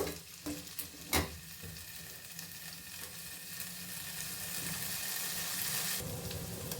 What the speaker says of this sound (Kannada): ಬಟಾಣಿ ಸೇರಿಸಿದ್ಮೇಲೆ ಮತ್ತೆ ಬಟಾಣಿನೂ ಸ್ವಲ್ಪ ಫ್ರೈ ಆಗಬೇಕಾಗತ್ತೆ.